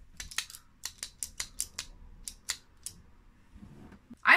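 Salad tongs snapped shut again and again as percussion, a string of about a dozen crisp metallic clicks in an uneven rhythm, close and fairly quiet, with no voices.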